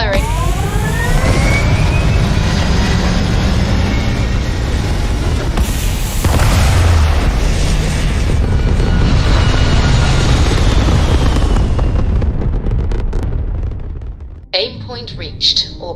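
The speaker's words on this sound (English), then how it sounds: "All thrusters firing." Spaceship thrusters in Starfield fire with a loud, dense roar and rumbling boom that holds steady for several seconds before cutting off abruptly near the end.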